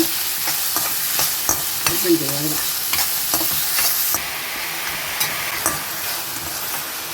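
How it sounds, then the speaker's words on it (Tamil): Chopped onions sizzle in refined oil in a kadai for channa masala, with a continuous frying hiss broken by repeated scraping and clanking strokes of the stirring spoon against the pan. "வெங்காயம் போடுறேங்க. இது நல்லா கொஞ்சம் சவக்க வதங்கட்டுங்க."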